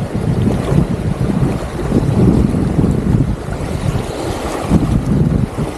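Strong wind gusts over the open sea during a light storm, recorded from a boat out shrimp fishing, with loud continuous buffeting and rumbling mixed with water and wave noise throughout, no voices.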